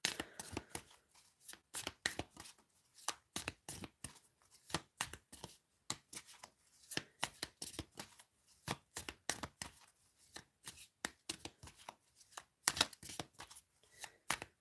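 Tarot cards being shuffled by hand in a steady run of crisp riffling snaps and slaps, close and clear, with brief pauses between bursts and no talking.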